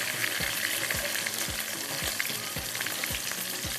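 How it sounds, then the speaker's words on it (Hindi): Chopped onion frying in a pan with chillies, a steady close crackling sizzle throughout with regular soft scraping strokes of a spoon, no voices. "इसके अंदर जाएगा प्याज।"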